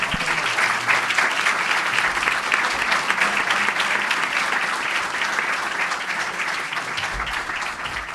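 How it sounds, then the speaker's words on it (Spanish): Loud, dense applause from a university audience at the Universidad Nacional de La Matanza welcoming Facundo Manes, continuous, even clapping throughout, with no voices. "Un fuerte aplauso, por favor"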